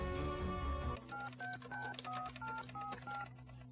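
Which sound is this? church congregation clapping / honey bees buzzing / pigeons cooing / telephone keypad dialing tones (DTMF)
telephone keypad dialing tones (DTMF)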